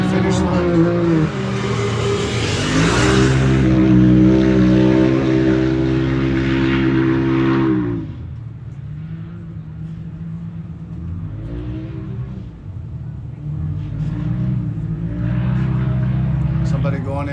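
A turbocharged UTV race vehicle in the High Desert 100 desert race in Powell, Wyoming crosses the start-finish line, its engine a loud, close, whining drone that fades away and then builds again, with a commentator talking over it.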